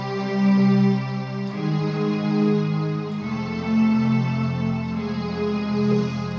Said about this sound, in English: So it would kind of sound like this with strings.